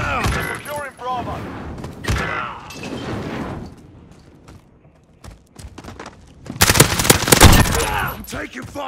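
Bursts of automatic gunfire in Call of Duty Modern Warfare rattle through a firefight, separated by quieter gaps with scattered shots, then a loud sustained volley near the end, with speech in places.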